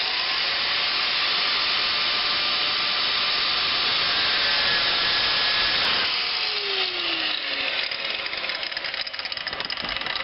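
A harsh, steady grinding rasp from a cutting tool works through the muffler outlet pipe under a 2000 Dodge Grand Caravan, continuous and close, with a shifting pitch partway through.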